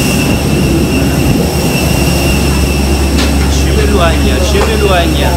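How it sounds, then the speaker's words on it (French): Airplane engines roaring loudly and steadily on the ground at an airport, a constant dense rumble with a high whine, while a person talks over it. "C'est vrai qu'ici il y avait beaucoup de bruit, mais voilà, je tenais à vous montrer quand même l'avion"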